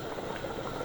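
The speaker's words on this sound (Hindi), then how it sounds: "पानी बॉयल हो चुका है।" Water at a rolling boil in a pot for beef yakhni pulao, a steady soft bubbling and churning heard close up for under a second, with no other sounds.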